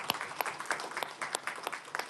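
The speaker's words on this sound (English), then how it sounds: "Dr. Muhammad Soleim, one more time, a big round of applause for Dr." Applause from a dinner audience at an annual scholars' gala, with distinct individual claps rippling unevenly through the room at moderate level, no voices over it.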